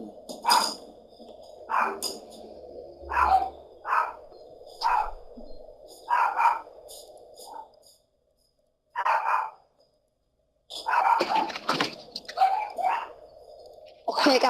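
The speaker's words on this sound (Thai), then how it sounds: "มาละหมาเห่าเหมือนเดิม" Dog barking in a video game, a string of short, sharp barks in an irregular rhythm over a steady low ambient hum, broken by a brief silent gap before more rapid barking resumes.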